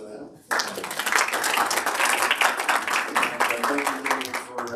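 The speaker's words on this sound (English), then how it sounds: "A little applause for them." Audience in a workshop hall breaking into applause, sudden steady clapping from many hands that fills the room, close and fairly loud, sustained for several seconds before thinning toward the end.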